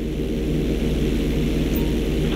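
Steady, loud drone of a propeller airplane flying in Grand Theft Auto 5 during a flight school mission, a continuous low engine hum with airy noise and no break over the whole stretch.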